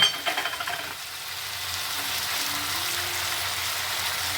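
Tomato paste with ground ginger and green chilli paste frying in a pan, giving a steady soft sizzle that starts with a few brief clatters of the ingredients going in and then continues evenly with no talking.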